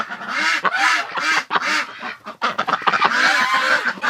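Ducks quack loudly and close by, with harsh rasping calls mixed with goose-like honks in quick uneven bursts, a brief dip midway before a noisy chorus resumes.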